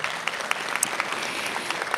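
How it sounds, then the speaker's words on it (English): An audience at a Women's History Month salute event breaks into full, dense applause, with steady clapping and a few sharper claps standing out. "So please give them another round of applause."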